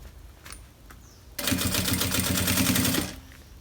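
A sewing machine stitches the side seams of a tote bag in one fast, rapid, rattling run of about a second and a half, preceded by a few faint clicks.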